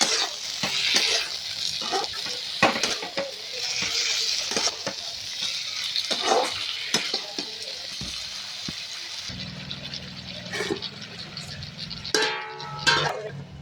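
Spices with ginger and cumin stirred and frying in a pan, a sizzling hiss with repeated metallic scrapes and clinks of the spoon, later quieter with a few sharp clinks near the end.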